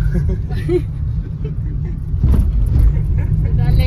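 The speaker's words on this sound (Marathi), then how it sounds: "रामेश्वरी फुल फॉर्म मध्ये गाडी चालवायली आहे" A car driven along a road during a rural farming trip, with a steady low engine and road rumble throughout that swells louder in the second half, alone without speech.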